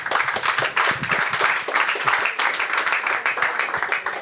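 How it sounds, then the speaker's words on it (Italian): Lively audience clapping at the presentation of a women's volleyball team, close and fairly loud, with sharp individual claps forming a continuous, slightly uneven patter. "Grazie e applauso."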